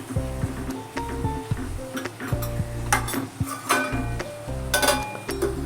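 Prawn masala being stirred in a pan, with a spoon clinking and scraping against the metal in an uneven rhythm and a faint sizzle underneath, close and fairly loud.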